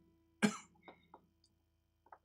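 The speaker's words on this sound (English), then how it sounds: "trying to figure out why I'm coughing so much right now" A single sharp cough up close, followed by a few small throat sounds and faint clicks in an otherwise quiet space.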